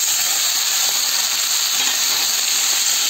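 A steady, loud sizzle of tomatoes and coriander powder frying in a pan with bitter gourd, an even hiss that holds unbroken from start to finish with no talking.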